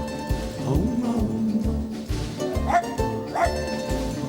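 A dog barks repeatedly in a quick series of yapping barks and whimpers, loud and close, mixed with live orchestral music on a Rome theatre stage.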